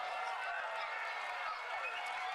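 A crowd at a Richmond Kickers soccer match applauding a player: steady, fairly distant clapping and cheering, with a faint voice underneath.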